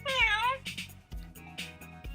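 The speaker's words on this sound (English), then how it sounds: "And when you push her belly, she meows." A Peppa Pig toy cat gives a single electronic meow when its belly is pushed, a bright warbling cry followed by a short burst of tinny toy music, heard up close.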